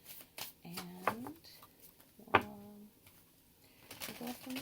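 Cards are shuffled in a few quick riffling bursts, close and fairly quiet, with someone talking briefly between the shuffles.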